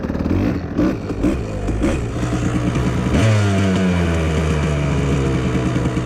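A two-stroke motorcycle engine running after rejetting, not yet warmed up, loud and close, with a raspy rising rev and a crackling, buzzy idle held steady.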